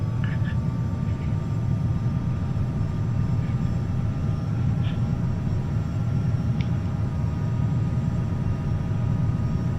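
A Challenger 300 business jet in flight in X-Plane 11, a continuous low engine roar with a faint steady whine above it, with a few brief faint blips.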